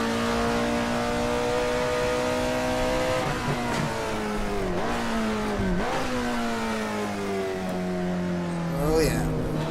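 A car engine in the Assetto Corsa racing game revs near and loud toward about 8,500 rpm, its pitch climbing steadily and dropping sharply at each gear change.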